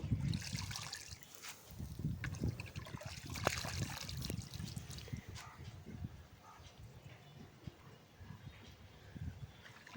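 Fresh spinach, cut with radish for a prawn dish, being rinsed by hand in water outdoors on a rooftop, with sloshing, trickling and dripping close by, continuous for about ten seconds and moderately loud.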